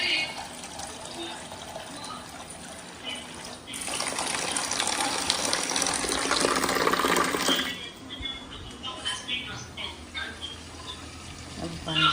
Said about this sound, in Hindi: अब पानी डाल देती हूँ।